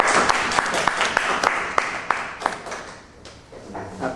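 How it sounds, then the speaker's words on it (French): Applause from a seminar audience, a dense spread of clapping with a few sharper claps standing out, fairly loud and then thinning slightly toward the end, with a faint voice mixed in. "Applaudissons, je te remercie"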